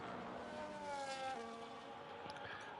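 McLaren and Ferrari race cars in a racing video game, their engines whining steadily with rising and falling pitch as one chases the other, loud and continuous with faint tire noise.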